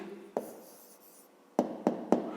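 A pen writing the answer to a school math problem on paper: a few short, sharp strokes and taps, one early and three close together near the end, with soft quiet scratching in between.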